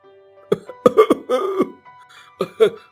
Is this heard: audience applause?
no